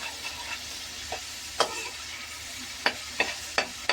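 Sliced onions frying with salt in a pan for a crab curry, a soft continuous sizzle punctuated by several sharp spatula scrapes and taps, close and moderately loud.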